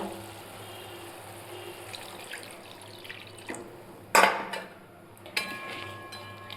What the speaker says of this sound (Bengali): আর এখন আমি অ্যাড করবো এর মধ্যে একটু জল।